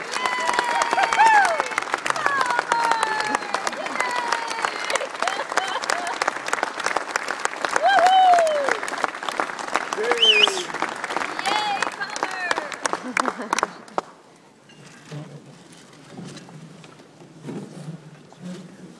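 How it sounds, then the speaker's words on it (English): An audience at a broadcasting Hall of Fame induction claps in sustained applause for about fourteen seconds, with whoops and cheers rising over it, before it cuts off and a quieter room remains. "So please give me a large round of applause"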